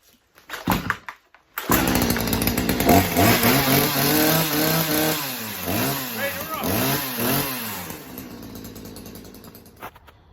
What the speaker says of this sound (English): And now we just fire it up,